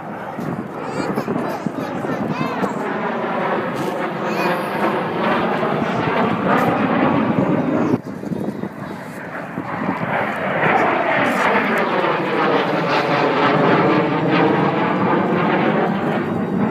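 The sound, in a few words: aeroplane flying aerobatic display at airshow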